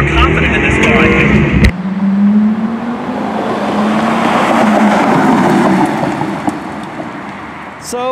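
A Porsche Carrera GT engine roars close by, rising and holding as the car accelerates, with wind and road noise and a brief voice at the start.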